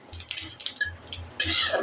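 Panch phoron whole spices hit hot oil in a pan for vegetable dal, giving light clinks of a utensil stirring against the pan, then a sudden loud sizzle close by near the end, with no voices.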